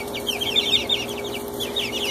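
Four-week-old chickens cluck and cheep steadily at close range, a busy overlapping chorus of soft clucks and higher peeps with no voices over it.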